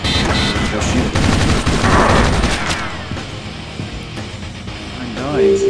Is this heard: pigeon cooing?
no